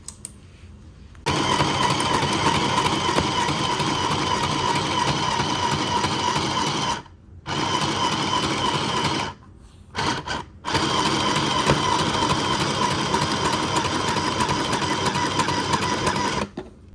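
A cheap sewing machine stitches steadily and loudly with a fast, even whirring hum, pausing briefly twice before running on again, with no voices.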